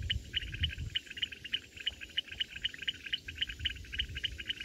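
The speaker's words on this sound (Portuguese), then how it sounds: "E atrás de mim, as cigarras." Cicadas by a small rural pond, keeping up a fast, rhythmic pulsing buzz at moderate distance, steady and unbroken over quiet low outdoor rumble.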